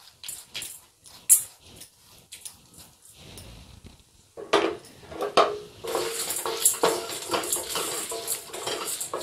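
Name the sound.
dry roasting cumin, coriander, urad dal and sesame in pan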